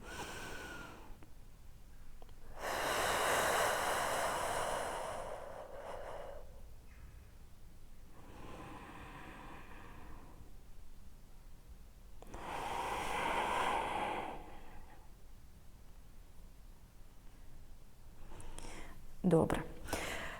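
Slow, deep breaths taken during a pelvic floor exercise, with two long, loud airy inhalations separated by quieter pauses and a short sharp breath near the end, heard up close.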